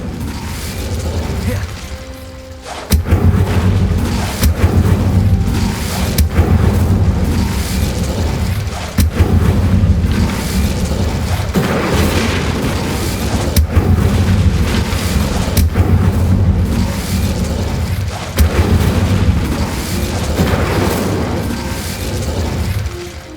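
Incendio fire spells blast repeatedly in Hogwarts Legacy, a sustained loud roar of fiery bursts and rumbling booms with mechanical clatter, starting after a brief quieter lead-in and continuing without letup.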